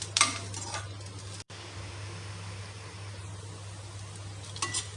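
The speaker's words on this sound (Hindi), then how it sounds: "प्याज हमारी भूनने लग गई है।" Onions fry in a pan for bhindi do pyaaza, a steady soft sizzle under a low kitchen hum, with a few light clinks of a utensil against the pan near the start and end.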